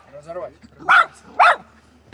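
A poodle gives two sharp, close barks at a goat outdoors on Crete, preceded by brief soft talk.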